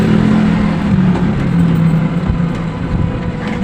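A motorcycle engine runs nearby at a neighborhood market in Muzon, San Jose del Monte, Bulacan, giving a steady, loud low hum that holds without a break.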